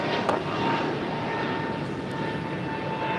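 A heavy jet airliner takes off from runway 25 right, its engines roaring as a steady, broad rumble at moderate distance, with a faint tone and a couple of brief clicks.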